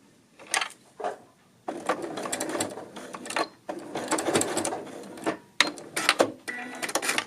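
A sewing machine runs in short bursts, stitching straight-stitch backtacks back and forth over seams on a dolman sweater, with whirring runs separated by brief pauses and clicks, close and clear.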